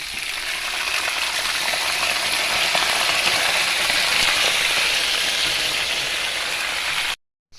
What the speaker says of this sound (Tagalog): Ito yung gisa na natin sa bawang sibuyas yung pork.